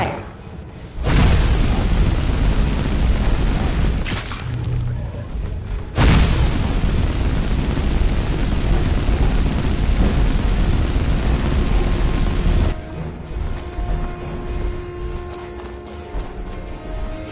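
Fire spell blasts in the video game Skyrim: heavy booming bursts that hit hard, roar for several seconds and then drop away, repeating a few times at close range with no voices.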